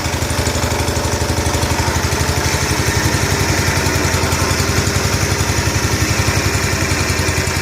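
A John Deere 140 H1 lawn tractor engine idles loud and close, a steady rapid thumping chug with no voices over it.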